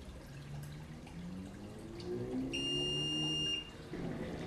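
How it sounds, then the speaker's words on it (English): A Simarine PICO tank level alarm sounds a high electronic tone once for about a second amid a quiet background hum. "Okay, so our alarm is going off"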